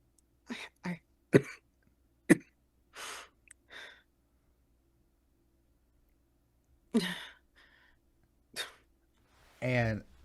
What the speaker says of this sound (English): that cough doesn't seem good